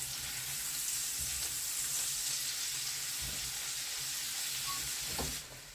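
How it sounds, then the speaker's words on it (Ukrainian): Onion and carrot frying in a pan for a simple Ukrainian Christmas dish, a steady, dense sizzle and crackle that holds evenly, then drops off abruptly near the end. "Все досмажуємо так, щоб було золотистого кольору."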